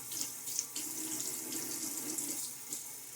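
Water runs and splashes at a bathroom sink as it is cupped onto a lathered face during a wet shave, a steady close rush with small irregular splashes.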